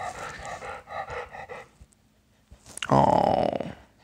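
A puppy pants audibly close by in a home, quick breathy huffs in short runs, followed by a louder rustling movement.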